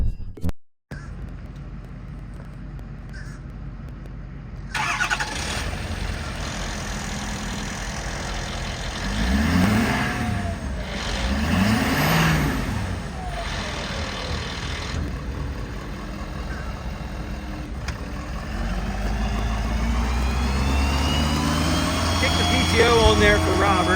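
A 2012 Ford F-550 4x4 utility truck with an IMT crane body cranks and fires up, then settles into a steady, close diesel idle with a broad low rumble that swells slightly over the clip.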